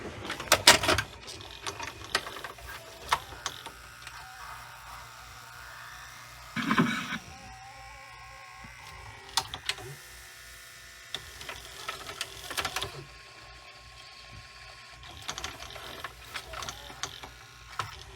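Mechanical whirring and clicking of a tape deck loading a cassette, with gear grinding, ratcheting clicks and a louder clunk partway through, no talking.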